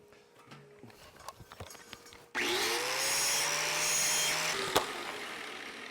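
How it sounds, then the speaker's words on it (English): A tungsten welding electrode is sharpened on a grinder in a welding shop, a loud whirring hiss that starts suddenly after some quiet handling clicks and runs steadily for a couple of seconds before a sharp tap. "I'm gonna sharpen my tungsten."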